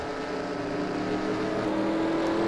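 Simulated race car engine in an online racing league at Homestead, the driver clutching to save fuel; a steady, loud engine drone with no talk, holding level throughout.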